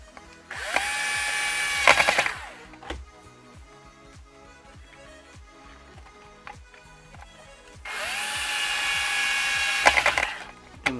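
A power drill drives a screw into a small wooden piece being fitted as a hinge on a recycled foot pedal switch, two loud whirring bursts separated by quieter knocking and handling noise.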